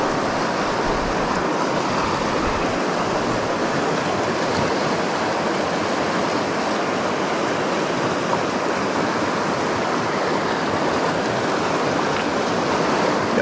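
A mountain creek rushes steadily in a remote backcountry area, a loud, continuous broadband roar of flowing water with no pauses, heard up close and alone.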